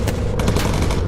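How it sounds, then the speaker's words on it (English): Anti-aircraft flak bursting around a bomber in the game Bomber Crew, a steady dense barrage of muffled booms and crackle over a constant low engine drone, with no talk. "So we got some flak there."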